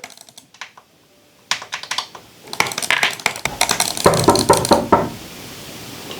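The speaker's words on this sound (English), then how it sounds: "Who the fuck's knocking on my door?" Rapid knocking on a door at home, a burst of sharp hard raps that build in loudness and density, close and clear, with no voices.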